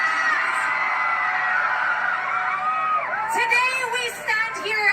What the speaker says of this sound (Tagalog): Ayan nagsisigaw-sigaw mga kababayan si Catriona Gray.